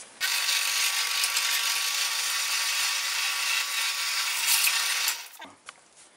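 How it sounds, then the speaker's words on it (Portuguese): A small hole is drilled in a part for a kerosene lamp made from a beer bottle, a steady close whirring drill for about five seconds that cuts off abruptly, followed by a few faint knocks. "Então eu vou fazer um furinho aqui, ó."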